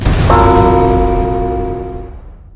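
A single bright bell strike rings out, its clear tone sustaining and slowly decaying over about two seconds, loud and close.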